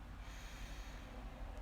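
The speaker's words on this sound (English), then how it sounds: "Okay, we're going to breathe in through our root chakra. We're going to breathe out." A long, steady exhale during a guided breathing exercise, a close, airy rush of breath lasting through the whole moment, with no talking.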